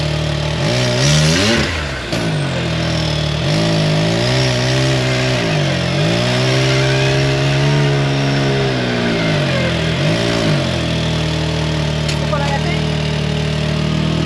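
A Can-Am Maverick X3 turbo side-by-side engine revs repeatedly, loud and close, rising and falling in several strong throttle blips over a steady idle, with a suspected blown turbo.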